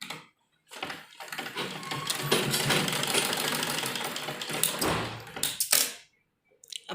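A sewing machine stitches a half-inch folded edge on printed kurti fabric, running in one steady whirring burst of about five seconds between short pauses, close and alone.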